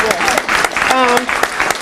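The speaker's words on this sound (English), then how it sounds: "I want everybody to have a standing ovation for my National Federation of the Blind members here." Applause from a standing ovation for National Federation of the Blind members at a 2015 legislative listening session, a steady roomful of clapping lasting the whole moment, with voices mixed in over it.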